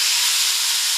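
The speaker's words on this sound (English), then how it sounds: "so while the chicken is over there sizzling, I hope you can hear it" Chicken frying on a hot grill gives a steady, loud sizzling hiss, continuous for the whole second.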